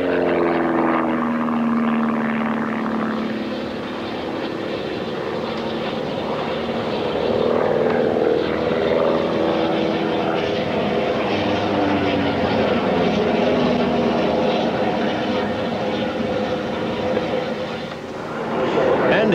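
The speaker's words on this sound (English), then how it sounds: "This is the Christian Eagle, designed as an economical transport, and the Skytech Maverick, built by Skytech of Western Australia." Ultralight aeroplanes, a Christian Eagle and a Skytech Maverick, fly at the 1988 Australia Bicentennial Airshow, their propeller engines giving a steady, loud drone that swells and fades over nearly twenty seconds, with a narrator talking over it.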